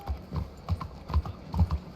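Horse hooves in a Wild West video game clip-clop in a steady trotting rhythm, close and distinct, with no talking.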